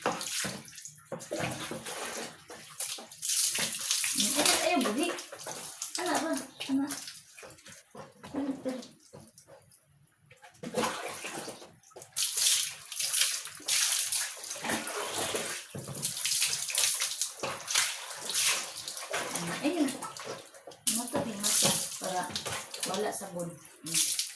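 Water splashing in a tub or basin while a child is bathed, with continuous sloshing and pouring. Voices speak over the water at close range throughout.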